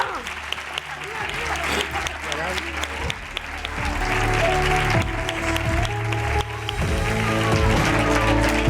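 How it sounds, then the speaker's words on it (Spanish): An audience at a family event gives a strong round of applause that builds from scattered clapping into loud, sustained clapping, with voices and cheers mixed in. "Un fuerte aplauso."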